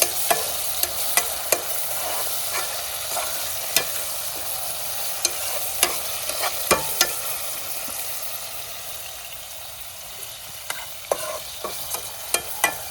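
Onion and tomato frying in oil for seasoned rice while being stirred in a pan, a steady close sizzle broken by frequent sharp scrapes and clinks of the spoon, with no talking.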